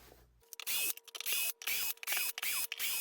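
A powered screwdriver backs screws out of the rear panel of a Paradigm Titan loudspeaker cabinet, giving six or so short whirring bursts in a quick stop-start rhythm, close and fairly loud, with near silence between them.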